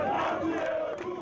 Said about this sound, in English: an angry crowd gathered, demanding the suspects be turned over to them